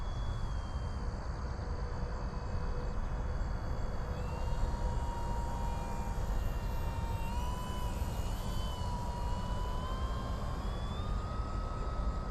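A small radio-controlled STOL plane, a 1.3 m Arrows Bigfoot, makes a super slow flyby, its electric motor a faint, steady whine that rises and shifts slightly in pitch over a constant background hiss.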